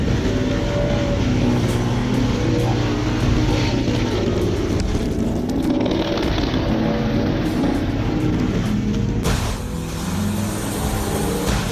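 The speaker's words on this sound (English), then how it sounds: "With its powerful motor and sharp chipping system, the machine processes large wood quickly and efficiently" A Bandit 3500 wood chipper feeds in and chips large wood, giving a loud, continuous engine roar with grinding and rattling surges that rise and fall and a brief dip in level near the end. No voices are heard.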